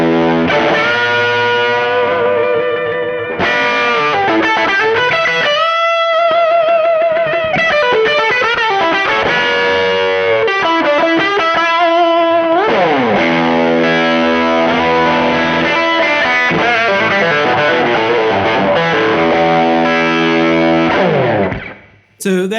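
Cranked JTM 45 clone amp played through an IR with the guitar's bridge pickup and volume on full, a sustained distorted electric lead line with bends and fast runs, loud and continuous, cutting off abruptly at the end.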